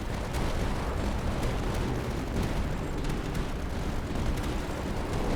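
Light mortars fire in the game Tower Dominion amid dense battle noise, a constant rumbling wash of explosions with sharp popping bursts scattered throughout.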